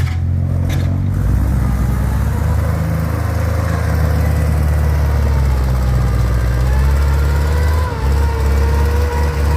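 A Kubota M6040 tractor engine runs loud and close, a steady low diesel rumble that barely changes for the whole stretch.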